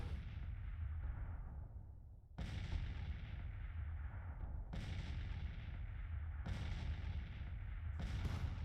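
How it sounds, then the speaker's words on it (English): A Civil War artillery battery in a strategy video game fires repeatedly, four sharp cannon blasts at intervals of about two seconds, each decaying into a long rumbling tail over a steady battlefield din. "We got this artillery unit that's way out in the middle of nowhere, firing at will."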